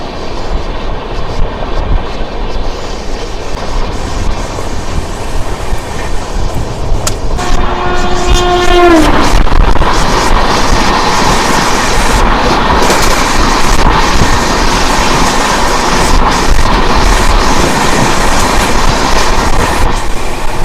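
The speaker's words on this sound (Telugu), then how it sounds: "సో ఇప్పుడు మనం వచ్చేసి పవర్పేట రైల్వే స్టేషన్ స్కిప్ అయితే చేస్తున్నాము" The Bokaro Express runs through Pavarpet railway station without stopping: a loud, continuous clattering rumble, with a brief horn blast partway through.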